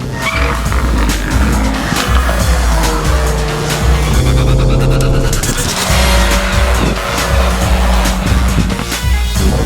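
An Audi TT with a 2-litre turbocharged engine of about 227 horsepower, in manual and dynamic mode with traction control off, roars loudly around a race track, with continuous engine noise, shifting revs and squealing tyres throughout.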